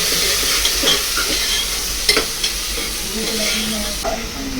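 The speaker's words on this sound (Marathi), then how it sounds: "कांदा छान परतून घ्यायचा आहे" Steady sizzling of onion sautéing with curry leaves and asafoetida in a hot pan, with occasional scrapes and clinks of a spoon stirring, close up and fairly loud.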